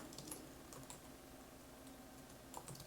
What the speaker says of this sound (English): That's what I'm typing now